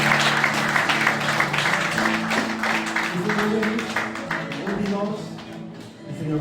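A church congregation claps together in praise at the close of a prayer, a dense, steady applause lasting several seconds with voices mixed underneath before it thins out.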